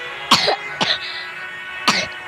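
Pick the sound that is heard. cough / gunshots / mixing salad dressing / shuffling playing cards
cough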